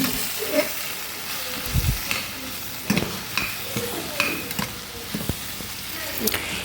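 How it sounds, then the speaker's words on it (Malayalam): Salted vegetable pieces frying in a pan for a masala curry, a steady sizzle broken by repeated scraping and clinking stirs at an irregular pace, close and clear. "വീണ്ടും നന്നായിട്ട് ഇളക്കാം."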